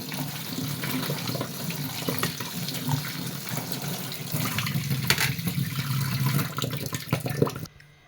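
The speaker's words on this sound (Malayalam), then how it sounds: "ഞാനിത് അരിപ്പയിൽ ഇങ്ങനെ ഒഴിച്ചിട്ടുണ്ട് ഇനി ഇതാ വെള്ളത്തിൽ ഒന്നിങ്ങനെ അതിൻ്റെ ആ പശയൊക്കെ പൊക്കോട്ടെ" Semiya vermicelli is rinsed in a strainer under running tap water, a steady close splashing rush that pours on for several seconds before cutting off abruptly at the end.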